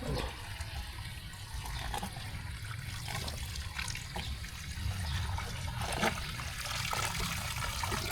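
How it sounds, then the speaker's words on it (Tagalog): Water pours and trickles steadily for cattle to drink on a Mindanao farm, a continuous splashing, dribbling flow close by with a faint low rumble underneath and no talking. "Ito naman po yung paiinom ni kuya ng tubig, yung mga dito."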